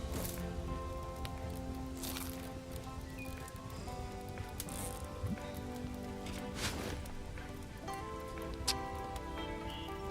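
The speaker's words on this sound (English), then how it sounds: "Oh, it's raining." Rain pattering steadily in the video game Len's Island, a faint continuous patter with game music tones layered over it.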